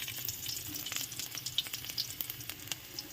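Garlic frying in cooking oil in a pan makes a soft, continuous sizzle, with light spatter ticks and a few stirring sounds throughout, no voices.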